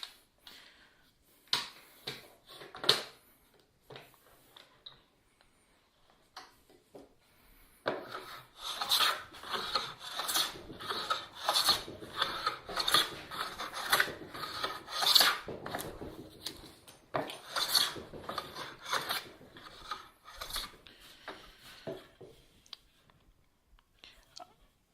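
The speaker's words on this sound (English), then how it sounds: "I'm going to give it a little more planing and go from there." A hand plane works a board for a workbench build, giving repeated rasping strokes in bursts, fairly close and moderate in level, with a quieter stretch early on.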